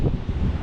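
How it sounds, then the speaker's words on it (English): Wind buffets the microphone at a high lookout in Lisbon, a steady, close, low roar lasting under a second with no voices. "Very windy up here."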